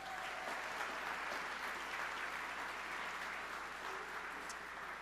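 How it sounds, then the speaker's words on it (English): Steady, fairly faint applause from an awards-ceremony audience, continuous even clapping held throughout with no voice on top. "So give yourselves a round of applause."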